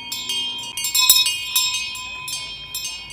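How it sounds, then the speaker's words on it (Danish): Cow bells clang repeatedly out in the Austrian countryside, a series of bright metallic rings at irregular intervals, fairly close and loud. "Det må virkelig være irriterende at være ko, og så altid skulle lytte på sådan en klokke der."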